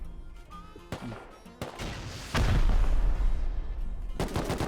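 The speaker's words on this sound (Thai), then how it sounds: "กูโดนเอเคยิง" Automatic AK rifle gunfire in the survival video game Rust: scattered shots early on, then a loud, sustained close burst with heavy booming reports, before sharp shots return at the end.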